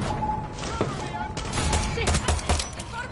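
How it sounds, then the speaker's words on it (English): Gunfire in Far Cry 6, a cluster of sharp shots and short automatic bursts against a loud background of game noise, with voices shouting over the action. "Someone's shooting!"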